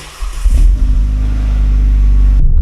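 Renault Megane RS on a test drive after a radiator swap, its engine pulling hard in second gear: a loud, close low rumble that swells into a steady accelerating drone, then cuts off sharply near the end, with no voices.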